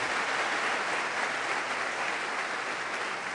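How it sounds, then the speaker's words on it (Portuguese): Loud, sustained applause from a crowd at a prayer group gathering, a dense continuous roar of many hands clapping with no voices standing out. "Mais uma vez, uma salva de palmas para esse Deus poderoso."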